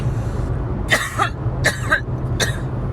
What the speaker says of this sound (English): So there is the said cough, folks.